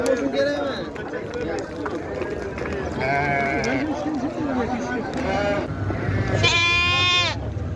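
Goats bleat repeatedly at the busy Gijduvon livestock market in Uzbekistan, several wavering calls rising over a crowd of people talking and bargaining.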